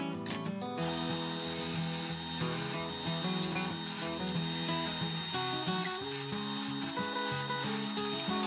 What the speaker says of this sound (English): plunge the drum sander and run back and forth just to smooth out all of these rough edges.